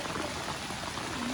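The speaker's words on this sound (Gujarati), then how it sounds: "કાલ કરતાં પણ આજે બહુ વધારે વરસાદ છે" Heavy monsoon rain pours steadily outside a house facing a village panchayat yard, a dense, even hiss with faint splashing and no pauses.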